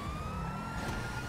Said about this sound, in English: now it's a pursuit, so it's turning on sirens.